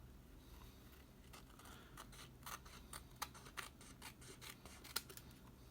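Scissors snip through Early Espresso cardstock, trimming a strip down to size for a greeting card face, a run of quiet close crisp cuts with rustling paper handling and no talk.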